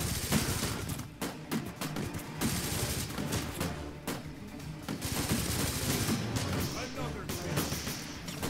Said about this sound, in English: now that we're using the machine gun, we can do a whole lot more damage to the enemy here